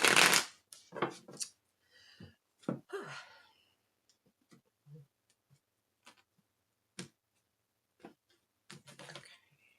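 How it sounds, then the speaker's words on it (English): Tarot cards are shuffled in a few quick riffling bursts up close, followed by scattered soft clicks and light handling noises in an otherwise quiet room. "I'm going to give it a couple more shuffles"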